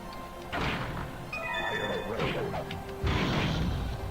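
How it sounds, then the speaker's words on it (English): Fire breath attack in the N64 game Gauntlet Legends, a few heavy whooshing bursts with thuddy impacts, loud and close, with game music tones in between. "Oh, that was fire breath"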